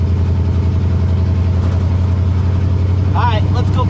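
A 1935 Oldsmobile hot rod engine idles with a steady low rhythmic rumble throughout, close and loud, while a person talks over it near the end.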